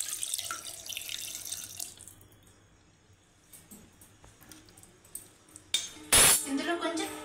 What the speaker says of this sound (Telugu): నేను ఈ చికెన్ని ఒక 1/2 లీటర్ వాటర్ వేసుకుంటాను.